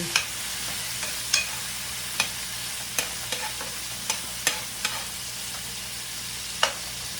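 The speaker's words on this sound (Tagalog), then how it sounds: "Tatlong itlog. Babatuin ko muna siya." Three eggs being beaten with a thick spoon in a bowl, the utensil clicking against the side in a quick irregular series of sharp taps over a steady low background hum, with no talking.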